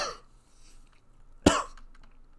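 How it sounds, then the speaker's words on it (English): A single sharp cough bursts out midway, short and close, preceded by a faint breathy sound and followed by quiet. "I swallowed and choked and coughed."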